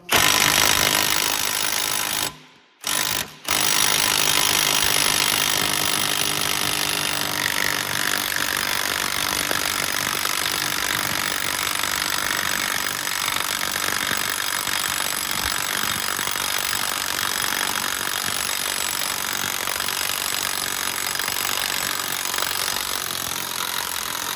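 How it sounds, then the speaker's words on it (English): A power tool whirs continuously and loudly up close while a 32mm axle nut is removed from a Dodge Durango's rear wheel. The whirring drops out briefly twice near the start, then runs on unbroken. "let's take the axle nut off now. Should be a 32mm."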